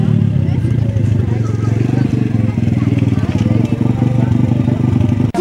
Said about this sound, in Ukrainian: Майже 40 вінницьких мотоциклістів заїхали на територію дитячого табору «Колос».